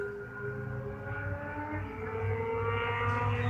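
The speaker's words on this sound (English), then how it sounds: "Listen, them bikes, man." Motorbikes roar past in a steady, droning engine rumble that swells slightly louder toward the end, with no voices.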